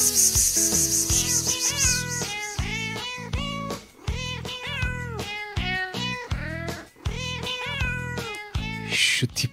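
Several cats meow repeatedly in a loud, overlapping series of drawn-out cries, some rising into caterwauling, with brief pauses between bursts and no talk.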